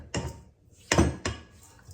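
A spoon stirs a mixture in a bowl, three distinct knocking scrapes with gaps between them, close and fairly loud, no talking over them.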